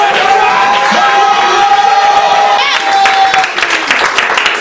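A church congregation breaks into loud, sustained applause and cheering, with dense clapping and whoops filling the room and a held tone running through the first part.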